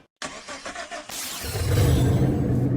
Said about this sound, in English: Makes a distinct vehicle noise.